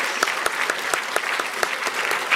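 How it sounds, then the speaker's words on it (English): Sparse, distinct claps ring out at an even pace in a university Women in Science and Engineering keynote audience, a thin round of applause for the speaker heard close and alone. "Can we all put a round of applause together for Ellie?"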